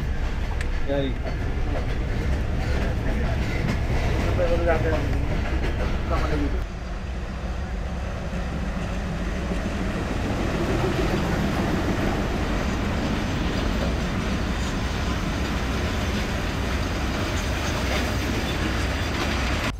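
A train runs along the line and slows as it stops at Abdulpur junction, its steady rumble and rail clatter continuous throughout with a drop in level partway, while people talk nearby over the noise.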